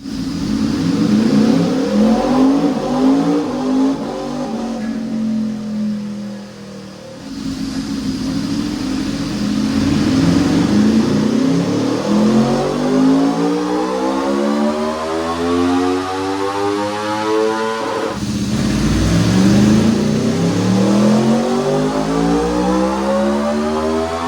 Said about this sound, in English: now it's time to dyno the motorcycle